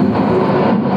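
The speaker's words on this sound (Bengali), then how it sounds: "কক্সবাজারগামী আন্তনগর পর্যটক এক্সপ্রেস" The Parjotok Express intercity train runs toward Cox's Bazar with a steady, loud rumbling drone heard from on board, with no speech.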